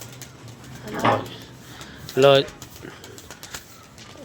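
Pigeons give two short, close bursts of cooing and wing flapping, one around the first second and a stronger one shortly after, heard over people talking.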